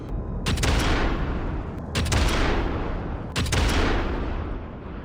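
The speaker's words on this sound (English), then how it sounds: "I'm just gonna shoot them." Three heavy gunshots ring out in the video game Sniper Elite 5, each a loud, sharp blast followed by a long rumbling echo, spaced about one and a half seconds apart, with no talking.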